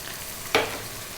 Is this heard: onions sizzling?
yes